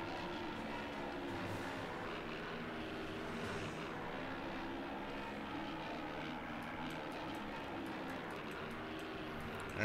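Slave 1 starship engine in the Star Wars Battlefront video game, a steady broadband roar flying past at constant loudness throughout, with no talk over it.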